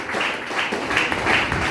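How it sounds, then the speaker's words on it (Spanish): A church congregation applauds, a steady wash of many hands clapping at a moderate distance, sustained throughout with faint rhythmic surges. "Denle ese aplauso al que vive"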